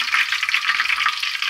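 Onions frying in hot oil make a bright, dense hiss and crackle, loud and close throughout the brief moment, with no talking.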